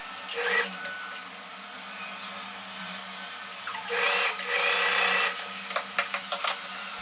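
A sewing machine stitches a hook strip onto a blouse patti with a steady mechanical whir, rising louder in the middle and ending with a few short clicks, with no one talking.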